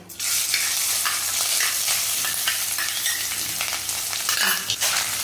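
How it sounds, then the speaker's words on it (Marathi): Grated coconut stirred with cinnamon, cloves and cardamom in a pan over low heat, a steady close sizzle with continuous scraping and stirring throughout, no talking. "हा आता असा मस्त हलवून घ्यायचा. गॅस स्लोच ठेवायचा, नाहीतर मग हा करपणार."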